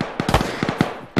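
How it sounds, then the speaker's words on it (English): Gunfire in the video game Arma 3, a quick string of sharp cracking shots, irregular and fairly close, with short gaps between bursts. "there seems to be lots of gunfire on the other side of this warehouse building"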